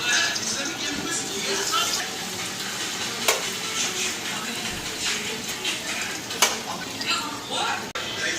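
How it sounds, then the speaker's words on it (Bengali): Bora fritters fry in a pan with a continuous, fairly loud sizzle, marked by occasional utensil clinks and scrapes and a voice speaking underneath. "তো এইদিকে বড়াগুলি দিয়ে দিলাম ভাজতে।"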